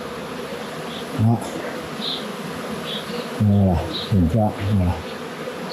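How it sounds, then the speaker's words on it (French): Honeybee swarm buzzing steadily close by during capture, a dense continuous hum with someone speaking briefly over it. "Capture d'un essaim d'abeilles en direct."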